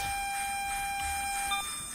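A Class 323 electric train in Train Sim World 3 pulls away from a stop, a steady mechanical hum with high whining tones that step and shift as it starts moving, heard alone and close.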